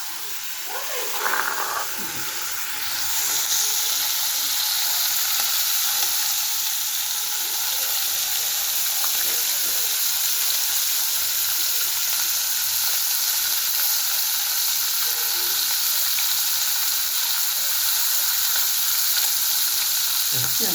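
Galunggong (round scad) fish fry in hot oil with a constant close sizzle and hiss, preceded by a brief clatter as the fish goes into the pan.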